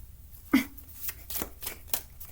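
A deck of playing cards being shuffled, a sharp riffle burst followed by several softer flutters and taps, close by, with no voices.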